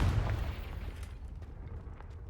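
In Hogwarts Legacy, a Confringo fire spell goes off with a low, muffled boom at the start, followed by a crackling rumble that fades gradually as the sound dies away.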